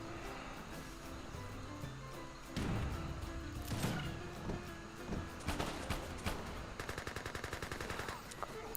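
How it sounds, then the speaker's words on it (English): Cannon fire in a real-time strategy battle in Age of Empires 3, Wars of Liberty mod, with booming shots and a rapid rattle of musket volleys amid continuous battlefield clatter. "Good shot there on the cannons, the Knaunaus."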